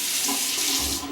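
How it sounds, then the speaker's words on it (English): Hot water pours steadily from a bathroom sink tap as a face is wet before a beard trim, a close, continuous hiss and splash with no voices. "I'm going to wet my face with some hot water."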